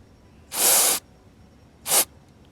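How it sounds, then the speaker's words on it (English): An aerosol can of electrical parts cleaner sprays a MAP sensor tip in two close, loud hissing bursts, a half-second blast followed by a shorter one. "Clean the sensor using an electrical parts cleaner."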